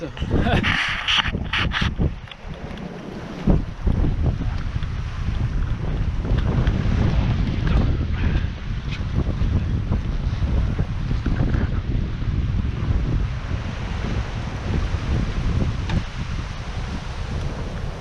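Wind roars steadily over the microphone aboard the sailboat La Desirade off Tananger, Norway, with waves rushing against the hull as the breeze strengthens and the sea builds. A voice speaks briefly early on.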